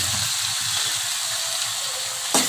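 Onions sizzle steadily in a hot pan as they are sautéed for a plain kurma, a continuous close frying hiss with a brief stir near the end.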